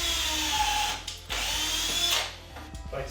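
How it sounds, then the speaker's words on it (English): A drill bit bores a series of holes into a metal car subframe on a GTO, with a steady, loud whirring grind that briefly eases and resumes before trailing off. "and drill a bunch of holes"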